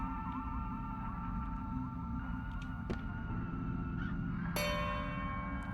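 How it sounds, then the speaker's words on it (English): A deep bell tolls in the horror video game Crow Country beside a big wooden door, its long ringing tone hanging over a steady low ambient hum, followed by a sharper chime near the end. "Maybe I should try ringing the bell?"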